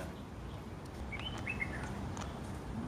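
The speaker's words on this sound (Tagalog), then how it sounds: "Naririnig niyo ba yung mga birds na huni-huni ng birds?" Faint bird chirps and short tweets come and go over a quiet outdoor background, a few calls scattered across the moment.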